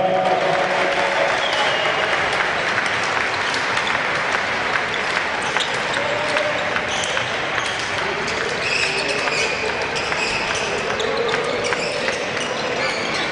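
Spectators at an indoor handball match between Fagaras and Steaua applaud in a dense, continuous roar of clapping and crowd noise that stays loud and even throughout, with faint thuds and a voice now and then underneath.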